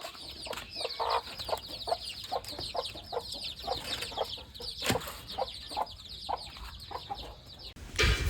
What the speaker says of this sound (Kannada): ಕೋಳಿ ಪಿಳ್ಳೆ ಮಾಡಿಬಿಟ್ಟದೆ ಸರ್ಪ್ರೈಸ್ ಅಂತ. 10 ಪಿಳ್ಳೆ ಮಾಡಿದ್ ಗುರು.